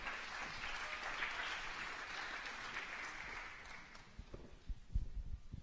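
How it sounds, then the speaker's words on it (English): An audience at a spring parent and family orientation applauds panelists joining the stage, a dense steady wash of many hands clapping that thins out toward the end as a few louder, closer claps remain. "round of applause"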